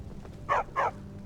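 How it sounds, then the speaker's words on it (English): A dog in the video game Skyrim gives two short, quick barks in a row over faint game background ambience. "Come on, stupid dog."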